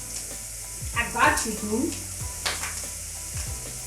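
Chicken breast sizzles steadily in a frying pan, with stirring clatter and a few utensil knocks as someone speaks briefly over the cooking.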